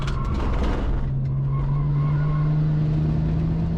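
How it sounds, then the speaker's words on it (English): Turbocharged BMW engine on a race track, a continuous loud droning engine note rising slowly in pitch under acceleration, with rushing wind and road noise from inside the car. "you could definitely hear those turbos working hard"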